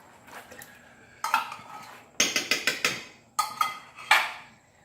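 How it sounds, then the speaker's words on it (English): Spoon stirring Italian red sauce in a pot, giving a few bursts of sharp metallic clinks and scrapes against the pot's sides separated by brief pauses, close and fairly quiet with no talking. "And now you want to stir this good"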